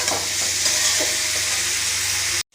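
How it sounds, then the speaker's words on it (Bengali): Fried young jackfruit being sautéed in a pan gives a loud, steady sizzle with intermittent stirring scrapes, cutting off abruptly at the end. "ভেজে রাখা এঁচো দিয়ে চাপা দিয়ে একটুখানি কষিয়ে নেবো"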